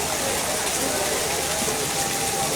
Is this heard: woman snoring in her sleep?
no